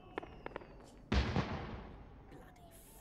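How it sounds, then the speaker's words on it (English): Fireworks burst: a few small pops first, then one loud close bang that rumbles and fades over about a second. A high whistle trails through the quieter stretches. "Bloody fireworks."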